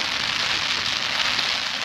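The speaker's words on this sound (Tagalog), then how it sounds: "Ayan, umuulan na nga. Ayan, lakas ng ulan" Heavy rain pours steadily onto a surface by a river, a dense, continuous hiss of drops with no pauses or voices.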